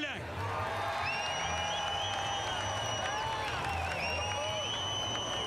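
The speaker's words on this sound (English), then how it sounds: "And there you can hear the crowd erupting as LP Dumoulin takes the top step of the pod" Crowd cheering and applause at a motor race podium ceremony in Trois-Rivières after the win, a continuous roar with whistles and tonal announcements or music on top throughout.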